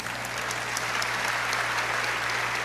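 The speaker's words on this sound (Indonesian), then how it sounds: "Tepuk tangan, tepuk tangan." Congregation applauding in a church service in Surabaya, dense continuous clapping over a low steady hum, moderately loud and unbroken for a few seconds.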